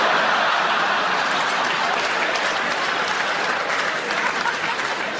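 Sustained, dense applause from a comedy club audience fills the room steadily, loud and close throughout without a break.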